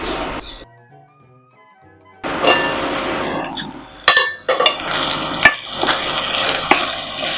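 Jowar pulao cooking in a pan, heard as close, lively sizzling with spoon scrapes and clinks against the metal after a quiet start, one louder knock partway through.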